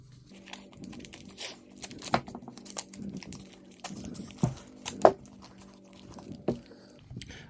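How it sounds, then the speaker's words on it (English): Tape being pulled, torn and wrapped around a tennis shoe, giving irregular crinkly rips and sticky crackles with several sharp tearing bursts, close and moderately loud, with faint background noise between strips. "So I'm going to go with what I know and tape this up the best I can."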